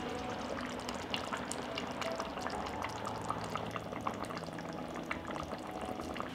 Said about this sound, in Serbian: Poklopiti i kuvati dok krompir ne bude gotov.